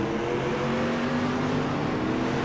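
Race car on a track in a Phoenix season-opener event, a steady close engine drone with tonal harmonics, running without pause as the car overshoots its braking point and gets turned around.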